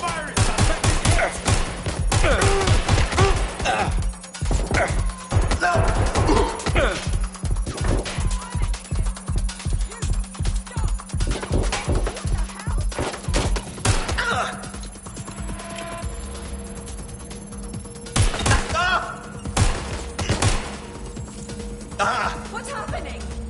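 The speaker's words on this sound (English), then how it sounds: "Target is firing." Enemy gunfire in Watch Dogs Legion, loud bursts of rapid shots coming in repeated waves with brief lulls between them, with a voice talking through parts of the firing.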